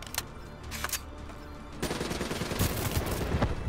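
Rapid turret gunfire in the Call of Duty Black Ops 3 campaign mission Provocation, with sparse shots at first and then a dense, loud, continuous burst of automatic fire.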